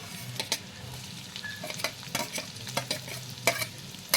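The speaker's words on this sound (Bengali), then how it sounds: "আদাটাও আমি ওইভাবে ভালো করে ভেজে নেব, দুটো আদা রসুন।" Chopped ginger and garlic fry in oil in a pan, a steady soft sizzle broken by repeated sharp scrapes and taps of a spatula stirring against the metal.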